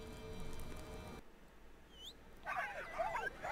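Sled dogs in the survival video game Fade to Silence give high, thin whimpers and yips, a short rising whine near the middle followed by a burst of agitated squeaky yelps over quiet background noise.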